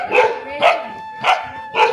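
A dog barks four times in a steady, evenly spaced series, loud and close, during a Harela folk festival day in Uttarakhand, with no talking over the barks.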